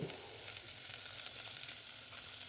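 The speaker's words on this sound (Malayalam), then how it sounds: "കുറച്ച് എണ്ണ ഒഴിച്ച് കൊടുത്തിട്ട് ഒരു രണ്ട് സവാള മുറിച്ചതുണ്ട് അത് ഞാൻ ഇതിലേക്ക് ഇട്ട് കൊടുക്കുന്നുണ്ട്" Chopped onions frying in hot oil in a pan for a chicken curry, giving a steady, close, continuous sizzle with no voices.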